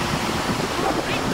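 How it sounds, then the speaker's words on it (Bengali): Strong wind gusting across a rooftop garden during rain, a loud, steady rushing roar that fills the whole moment with no pauses. "কি বাতাস!"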